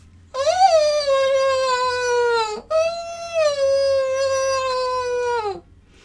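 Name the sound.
voice imitating fox noises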